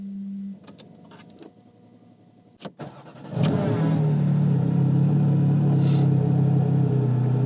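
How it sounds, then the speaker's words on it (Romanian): A Porsche 718 Cayman GT4 RS starting: a few faint clicks and whirs, then the starter catches and the engine fires with a loud bark before settling into a steady, rumbling idle heard up close. "la GT4 RS încă poți să mai bagi cheia și să pornești bestia"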